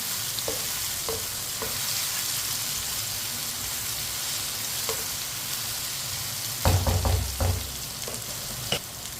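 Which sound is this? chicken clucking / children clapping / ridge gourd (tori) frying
ridge gourd (tori) frying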